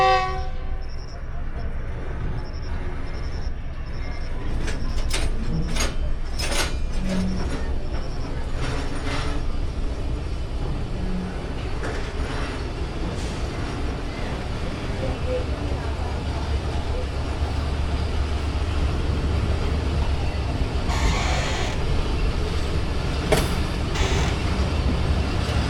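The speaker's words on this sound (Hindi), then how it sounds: "मीटिंग रेलवे स्टेशन पे ट्रेन हमारी रुक चुकी है" The Hazara Express stands at a railway station, its low rumble steady under scattered clanks and a distant horn toot, with people talking nearby throughout.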